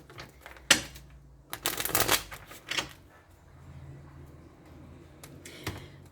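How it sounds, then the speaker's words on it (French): Oracle cards being drawn and shuffled from a deck during a tarot-style reading, giving several crisp papery slaps and riffles in short bursts, close and fairly quiet, with no talking. "Je vais piocher les cartes"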